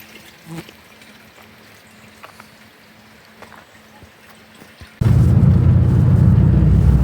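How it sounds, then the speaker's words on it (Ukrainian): Quiet outdoor ambience with faint trickling, then a sudden steady rush of spring water pouring into a container, loud and close, continuing to the end. "Набираю тут воду в джерелі."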